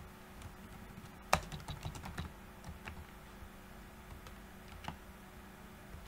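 Computer keyboard being typed on while entering code, irregular quick key clicks with one sharper tap early and a few sparse presses later, close and quiet, no voices.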